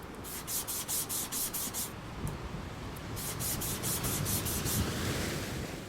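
A sponge daubs ink onto paper in a stamping and card-making session, giving soft, close, rhythmic dabbing and rubbing strokes in two bursts of repeated taps with a steady scrubbing texture between them.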